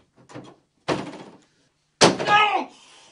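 A door is slammed shut hard, preceded by two softer thuds and bumps, with a sharp bang that rattles briefly before settling.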